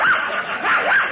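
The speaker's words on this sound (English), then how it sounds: "Then why do you keep a police dog in your pocketbook?" A police dog barks and yips as a sound effect in an old Christmas radio play, a loud close run of a few bark-like whimpering calls with no talk over it.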